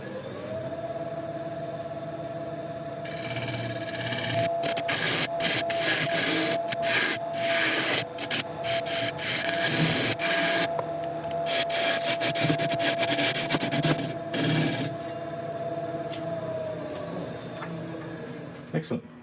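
Wood lathe turning yellowheart while a tool cuts a tenon, a steady motor hum with scraping, rasping cutting bursts throughout, close and fairly loud.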